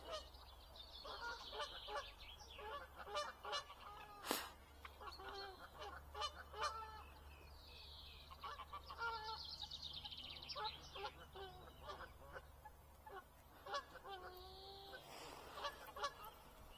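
Canada geese honk repeatedly at a fishing lake, with overlapping nasal calls from several birds carrying at moderate distance over a steady background hum, with no talking.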